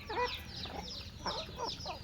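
Native chickens on a farm cluck and call softly while feeding, a few short close vocalizations in quick succession.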